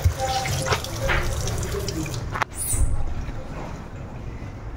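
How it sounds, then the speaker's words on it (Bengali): Very hot tap water runs steadily into a sink while cooking utensils are washed, with splashing and clatter throughout and a brief sharper knock midway. "এই রান্নার এইগুলো ধুয়ে দিচ্ছি, প্রচণ্ড গরম জল"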